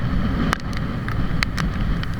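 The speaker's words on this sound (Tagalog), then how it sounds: "Lakas ng hangin, para kung tatangayin." Strong typhoon wind at a beach roars steadily against the microphone, a dense broadband rush with a few sharp gusty buffets and crackles, loud and close, with no talking.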